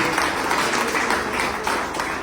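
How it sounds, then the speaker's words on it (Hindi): A crowd at a gathering applauds with dense, sustained clapping that holds at an even level for the whole stretch. "उनके सम्मान में भी जोरदार तालियां बजनी चाहिए"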